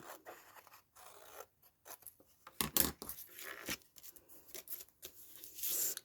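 Scissors snip paper while trimming layers for a handmade Christmas journal, a series of close, crisp cuts in short bursts separated by pauses.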